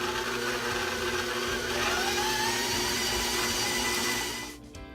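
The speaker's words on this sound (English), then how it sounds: "We are going to turn the mixer on and let it knead until the dough is smooth" A stand mixer kneads bagel dough with a loud, steady motor whir and hum that holds for several seconds before cutting off abruptly near the end.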